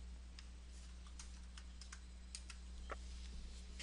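Typing on a computer keyboard while entering text into an Excel 2013 spreadsheet: quiet, irregular key clicks in short bursts over a steady low background hum, with no voices.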